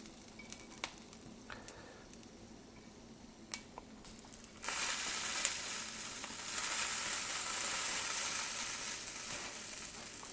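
Whole peppers roasting in a hot pan sizzle and crackle softly at first, then the frying hiss jumps louder and stays dense and continuous, close up, with no talking.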